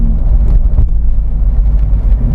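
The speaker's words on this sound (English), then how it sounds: "If I want to bring it down, 4th, 3rd, you notice the RPM match shifting" A Jeep Wrangler AEV with a 6.2 L GM V8 and 8-speed gearbox rumbles loudly and continuously from inside the cabin, its engine note blipping as it rev-matches through manual downshifts.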